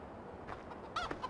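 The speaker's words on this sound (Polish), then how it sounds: "Ale jest kogut." A brief rooster crow in Farming Simulator 15 rings out near the end, short and rooster-like over quiet low background hum.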